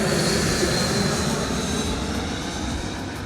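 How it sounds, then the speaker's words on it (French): A low-flying airplane near Koh Samui airport roars steadily overhead, a loud, broad engine rumble and whine filling the whole stretch with no voices. "il y a un aéroport pas très loin, donc les avions ils passent toujours hyper proches"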